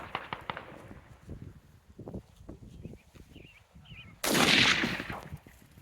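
A rifle fires at an outdoor target shooting range: a sudden loud blast that rings out and decays over about a second, preceded by scattered rustling and handling noises.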